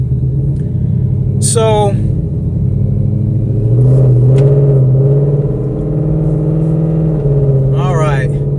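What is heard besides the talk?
2024 Ford Mustang loud exhaust rumbling while driving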